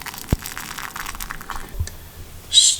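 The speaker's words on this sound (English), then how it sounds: "Then you pour hot water up to the line" Hot water is poured into a bowl of Samyang Buldak spicy rice cakes (tteokbokki) with sauce. It is a short, close, splashy pour lasting a couple of seconds, with a small clink at the end.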